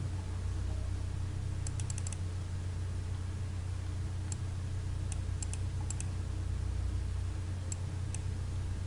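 Mouse clicks on a computer during a CorelDraw 9 design session, a few sharp clicks, some in quick bursts, heard close over a steady loud hiss and low hum with no talking.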